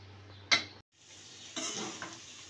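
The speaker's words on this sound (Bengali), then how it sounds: "এখন আমি করলাগুলো দিয়ে ভালোভাবে নেড়ে চেড়ে কিছুক্ষণ ভাজবো আমি ঢাকনা ছাড়া।" Bitter gourd frying uncovered in oil in a pan, stirred with a utensil: a brief scrape and clatter, a short pause, then a soft steady sizzle with light stirring scrapes, close and quiet.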